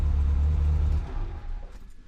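A Ferrari F355 engine idling with a slight misfire, a deep steady low rumble that drops in level partway through and turns rougher and uneven, with no talking.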